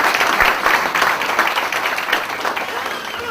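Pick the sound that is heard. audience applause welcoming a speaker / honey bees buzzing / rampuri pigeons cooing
audience applause welcoming a speaker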